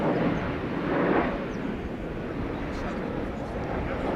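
A Royal Air Maroc airliner at Schiphol Airport gives off a steady, broad jet roar that stays loud throughout, with a person talking over it.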